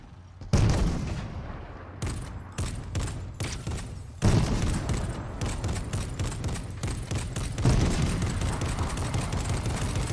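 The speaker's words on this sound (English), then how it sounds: "Gunfire." Bursts of gunfire and booming shots, loud and close, coming in rapid volleys with brief gaps over a rumbling backdrop.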